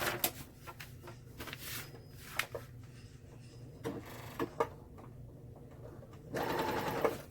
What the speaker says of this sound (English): we're sewing all the way down